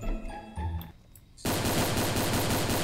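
Roblox gunfire: a few scattered single shots first, then a sudden loud, sustained burst of rapid automatic fire filling the rest of the stretch.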